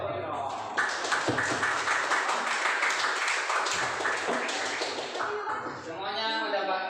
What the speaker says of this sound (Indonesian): Semuanya mendapatkan tepukan yang meriah.